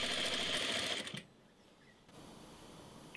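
A sewing machine runs steadily, top-stitching along the edge of lace on a garment's leg seam, then stops abruptly after about a second, leaving quiet room tone.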